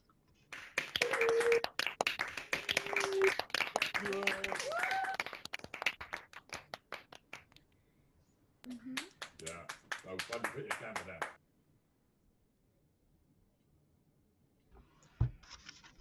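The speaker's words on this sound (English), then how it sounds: "I now warmly welcome you to unmute and clap and cheer yourselves" Graduates on an unmuted video call clap and cheer together, a scattered, uneven patter of hands and small voices. It runs for several seconds, stops, bursts again briefly, then falls silent, with a lone click near the end.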